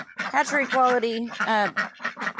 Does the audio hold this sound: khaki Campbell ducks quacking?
yes